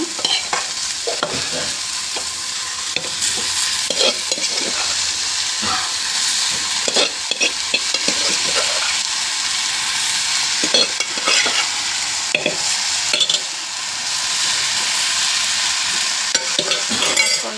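Close, continuous sizzling as cowpea beans and mixed leafy greens are stir-fried with onion in a hot pan, with frequent scraping and stirring strokes throughout.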